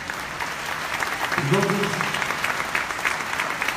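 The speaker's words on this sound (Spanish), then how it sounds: "vamos a dar un fuerte aplauso" Applause from the audience at a live bolero festival concert in Mexico City, a steady sustained clapping crowd with someone talking over it at the start.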